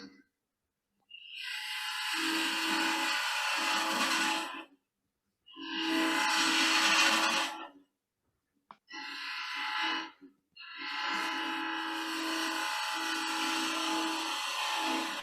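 Wood lathe turning an egg shape, a gouge removing bulk material from the top of the blank: loud bursts of broadband cutting noise in long passes, separated by short pauses, with no talking.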